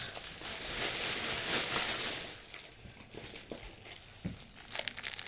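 Plastic bags are handled while a hospital bag is packed, giving loud, close crinkling and rustling for the first couple of seconds, then scattered softer crackles and crumples.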